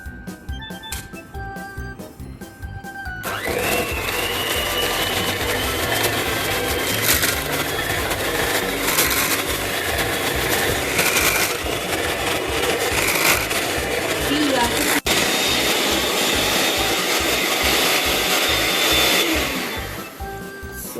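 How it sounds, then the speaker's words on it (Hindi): Electric hand blender whisking a mixture in a kitchen, a loud steady motor whine that starts after about three seconds and runs continuously before winding down near the end, with brief talking at the start. "अभी मैं इसको हैंड ब्लेंडर से विस्क करने वाली हूँ"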